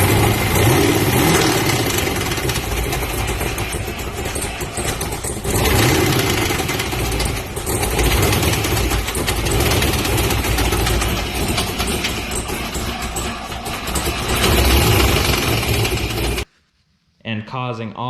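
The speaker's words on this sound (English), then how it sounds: "You can hear the piston disintegrating like this." An LS1 V8 swapped into an FRS runs loud and rough with a disintegrating piston, a heavy continuous mechanical clatter and drone that cuts out abruptly near the end before a brief quieter sound.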